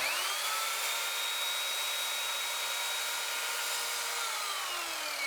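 An Evolution Fury 3-S sliding mitre saw slices through PVC moulding, giving a loud, continuous, high-pitched whirring cut that runs unbroken and close.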